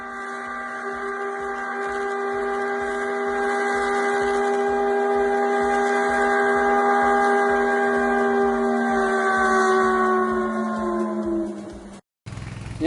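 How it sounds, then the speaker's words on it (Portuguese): A textile factory's steam whistle calling workers blows one long, loud, sustained chord over a rhythmic mechanical chugging that pulses underneath, sliding slightly downward before cutting off abruptly near the end. "a fábrica de tecidos foi quem criou o apito para chamar"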